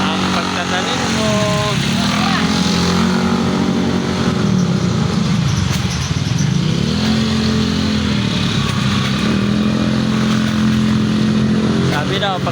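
Motorcycles pass by on a road, their engines rising and falling in pitch as they approach and fade, over continuous loud traffic noise with no other sound standing out.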